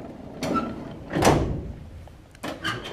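A storage drawer holding plastic lure molds is pulled open with a sliding rumble and clunk, followed by further rattling knocks and scraping as the contents shift, close and clear with no talk.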